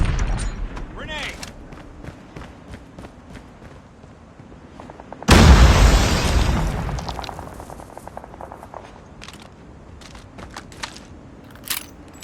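A grenade explodes in Call of Duty Mobile Search and Destroy, one loud sudden blast midway that decays into a long rumbling tail, with scattered gunfire and game voice callouts around it.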